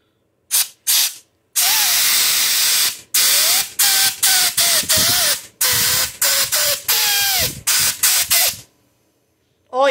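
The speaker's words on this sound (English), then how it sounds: "I'm just going to use air hose." An air hose blows out a clogged Honda Troy-Bilt 4500 psi power washer in a string of loud, close, hissing bursts. Some are long, some are short, and sharp silences fall between them.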